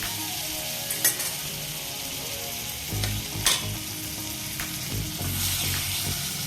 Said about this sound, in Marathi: बटर मध्ये पनीर परतून घेणार आहे।